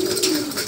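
Racing pigeons coo in a loft, a single soft rolling coo that swells and fades within a moment, close and clear.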